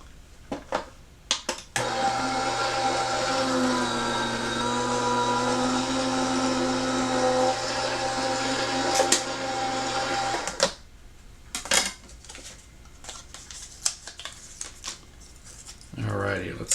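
An electronic die cutting machine in a craft room hums and whirs steadily for about nine seconds as it cuts out a shape, with a low motor drone and higher buzzing tones, bracketed by clicks and brief handling noises.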